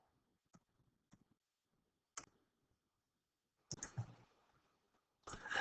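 Scattered, faint clicks of a computer keyboard as values are typed into a graphing calculator, a few isolated taps followed by louder, denser bursts of keystrokes toward the end.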